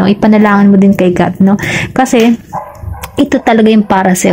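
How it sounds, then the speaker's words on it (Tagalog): A dog barks repeatedly in the background, yipping at close range while a person talks steadily over it. "pasensya na sa tahol ng aso, kung naririnig nyo."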